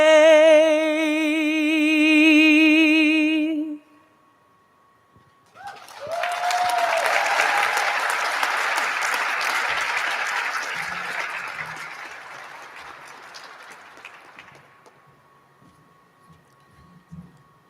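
Audience applause at a Women in the Air Force exhibit opening, breaking out after a sung national anthem ends; a dense, steady crowd of clapping that swells, holds, then gradually thins and fades.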